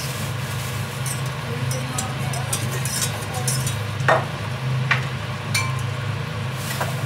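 Sauce cooking in a pan for cauliflower rice, with a steady low simmering hiss and occasional soft clinks and scrapes of a utensil stirring.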